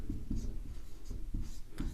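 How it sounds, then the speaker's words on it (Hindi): Chalk or marker writing on a classroom board during a Hindi grammar lesson, a series of short scratchy strokes in a steady rhythm, close and fairly faint, with no talk over it. "इसको हम शुद्ध तरीके से लिखेंगे"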